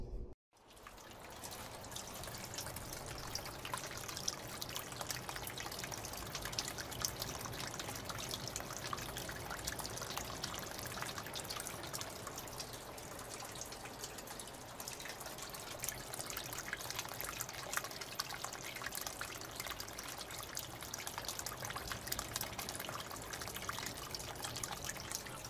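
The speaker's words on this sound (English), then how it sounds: "to demonstrate capillary rise, I'm going to pour water into this basin" Water poured steadily into a basin of sand, a continuous close trickle and pour running without pause for the whole stretch, with no talking.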